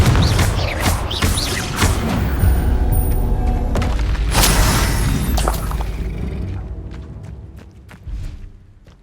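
A Confringo explosive spell bursts with a loud, heavy boom in Hogwarts Legacy, a rumbling blast with crackling debris that thins out and fades over several seconds, ending in a few scattered pops.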